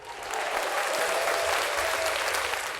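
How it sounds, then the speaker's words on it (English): Studio audience or podcast guests applaud during a hip hop podcast, a steady dense round of clapping holding at even loudness for about three seconds before easing slightly at the end. "give a round of applause for Killer Mike"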